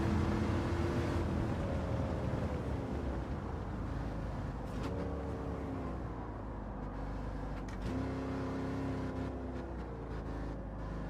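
Race car engine in a driving simulator, launched with a third-gear start; a low droning engine rising and shifting in pitch across several gear changes, steady and continuous.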